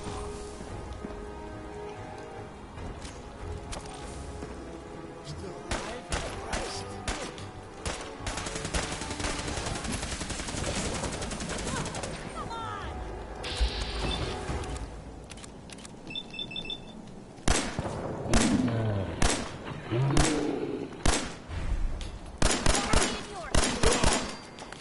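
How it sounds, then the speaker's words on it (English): An enemy fires at close range in Fallout 4 on PS4, with bursts of sharp shots and rattling volleys coming in irregular clusters, loudest near the end, against a background of rumbling game noise. "I think he's just literally leaning over and shooting."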